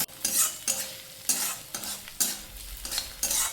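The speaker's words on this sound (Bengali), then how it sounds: "পেঁয়াজ কুচি দিয়ে হালকা লাল করে ভেজে নেব।" Chopped onion with ginger and garlic frying in a pan, stirred in about six regular scraping strokes over a soft, continuous sizzle, heard close and with no voices.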